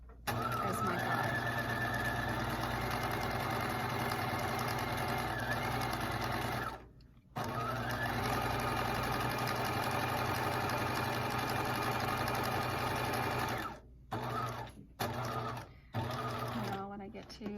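A sewing machine runs steadily, stitching fabric for a headband with the fabric edge guided along the foot, its close, even mechanical hum going on for long stretches and broken by a few short stops, while a person talks over it.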